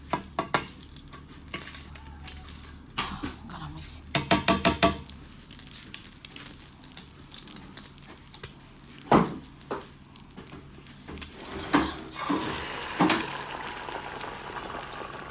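An egg fries in a pan, a steady faint bubbling sizzle with bursts of scraping and clinking from a utensil against the pan, mostly alone with little talk.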